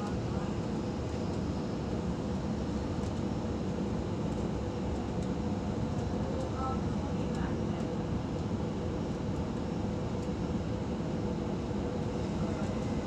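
Suburban train running on the rail line between Thirroul and Coniston, heard from inside as a steady, dense rumble and wheel roar that stays even and continuous throughout.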